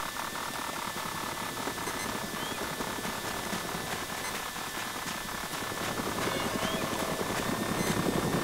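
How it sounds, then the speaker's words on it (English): Helicopter engine from the military game Arma 2, a steady dense rotor and turbine roar that fills the scene throughout and swells slightly louder toward the end. "All, get in that chopper."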